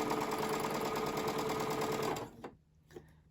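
Sewing machine stitching a quilt block, a fast steady mechanical whir running loud and continuous for about two seconds, then stopping abruptly, followed by a few faint handling clicks.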